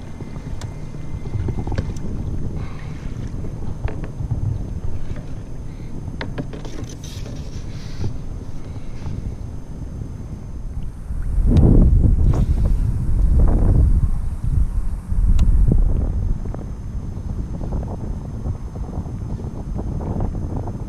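Wind blows across open water around a small Ultraskiff while fishing for speckled trout, a steady rushing hiss with heavier gusts buffeting the microphone midway, plus occasional knocks of gear on the hull.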